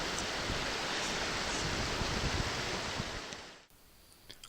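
Waterfall on the Oyster River near Ram's Head Lake, a steady broadband rush of falling water heard up close, which cuts off abruptly near the end and leaves quieter outdoor ambience with a few small knocks.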